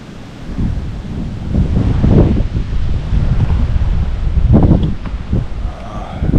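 Wind gusting across an exposed ridge top during a deer hunt, a steady broadband roar with swirling surges and buffeting against the microphone, loud and continuous with no talking.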